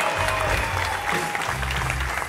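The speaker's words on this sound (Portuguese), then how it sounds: "quero muito barulho para o meu amigo Rogério Morgado" Steady audience applause and crowd noise at a comedy show as a comedian takes the stage, dense clapping throughout with some cheering voices mixed in.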